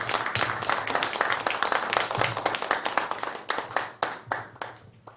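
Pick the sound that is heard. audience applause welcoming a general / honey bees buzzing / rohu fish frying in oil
audience applause welcoming a general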